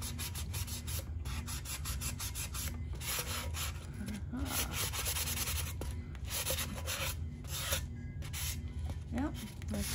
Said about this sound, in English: So I'm gonna take this sanding block. Oh, I don't want anything on the lid. So I'm gonna sand it real good.